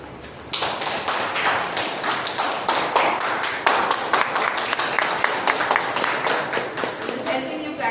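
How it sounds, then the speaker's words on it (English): Meeting audience at a Toastmasters club clapping steadily and fairly close, a dense run of hand claps that holds throughout with a brief quieter moment at the start. "Just helping you practice how to clap so that you can do more"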